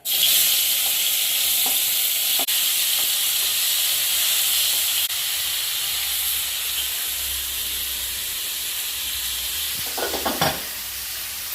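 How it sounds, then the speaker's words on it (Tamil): Tomatoes go into a pan of dried chillies and garlic for a garlic tomato chutney, and a loud, continuous sizzle and hiss carries on throughout, with a few scraping stirs near the end. "அதனால் இப்போ நம்ம இதில் வந்து தக்காளி சேர்ப்போம்"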